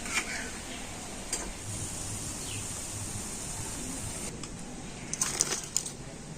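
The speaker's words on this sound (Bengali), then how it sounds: "আর এইভাবে সমস্ত পকোড়াগুলো আমি ভেজে নেবো" Pakoras deep-fry in hot oil with a continuous soft bubbling hiss at low volume. Light clinks and taps from a utensil come near the end.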